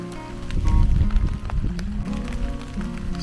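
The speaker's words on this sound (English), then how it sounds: "The rain should clear out of here." Rain falls steadily on a farm where a baby Jersey heifer has just been born, a soft pattering wash that swells briefly near the start before settling into a constant patter.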